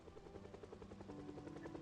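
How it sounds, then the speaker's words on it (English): Helicopter rotor chop flying overhead in the zombie survival game Project Zomboid, a steady rhythmic thumping drone held at moderate loudness throughout, with no voices. "helicopter comes, generates a sound, all the zombies are moving to the source of the sound"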